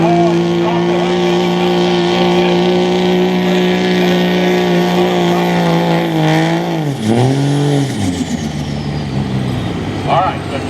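Street semi truck pulling a sled at a truck and tractor pull, a loud, sustained engine drone that dips in pitch midway then picks back up, with heavy crowd and event noise around it.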